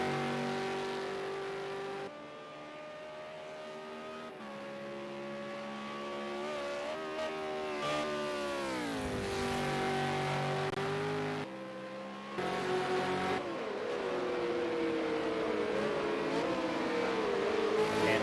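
V8 Supercars race at Mount Panorama, Bathurst, in the championship's final round, with engines rising and falling in pitch as cars rev, shift and pass. The roar is moderately distant and continuous, with a brief dip midway.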